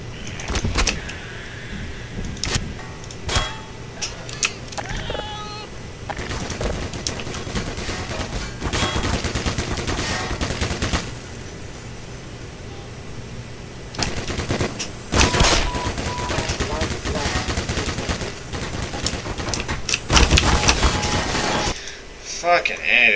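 Gunfire aimed at a target in the video game Black Mesa comes in loud, close bursts, with clusters of shots separated by short gaps and a steady game background running underneath.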